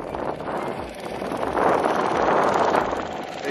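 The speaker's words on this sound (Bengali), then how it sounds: "প্রচুর হাওয়া দিচ্ছে, আর যত বেলা বাড়ছে ঢেউ বা হাওয়ার গতিবেগ তত বাড়ছে।" Strong wind gusts over Chilika Lake, a broad, steady roar that swells louder about halfway through and holds, with no voices.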